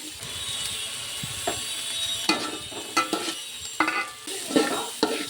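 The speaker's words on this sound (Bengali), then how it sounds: "চালটা ভালো করে ভেজে নেব।" Drained pulao rice being fried and stirred in a pan, a soft steady sizzle broken by repeated scraping strokes of a spoon against the metal, close and moderately loud with no talking.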